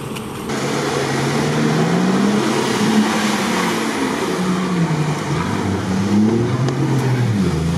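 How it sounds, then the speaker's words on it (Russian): An off-road truck at a trophy-raid competition sits stuck on a blocked track while its engine is revved hard, a loud, steady roar with rising and falling pitch that holds close and continuous throughout. "штурман решил погазовать"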